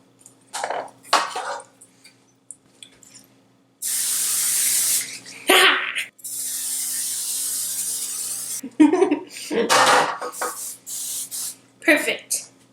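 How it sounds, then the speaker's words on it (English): Cooking spray hisses onto a cookie sheet in a sustained burst of a couple of seconds, followed by shorter spurts, with a person talking in between. "lightly grease the cookie sheet"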